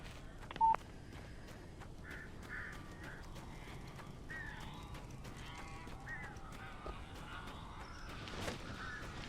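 Crows caw in the video game Alan Wake, scattered harsh calls rising over a steady ambient background with a short electronic beep near the start, moderately distant and faint.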